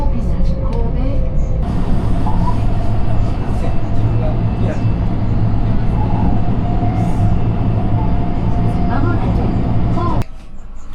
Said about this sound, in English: This is the special rapid service bound for Himeji.